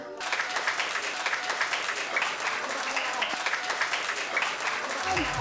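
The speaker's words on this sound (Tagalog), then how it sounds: "bibigyan naman po natin ng isang masigabong palakpakan na may kasamang hiyawan" A party crowd applauds and cheers at a seventh birthday celebration as the young celebrant enters; sustained clapping with cheering holds steady throughout, with music or voices mixed in underneath.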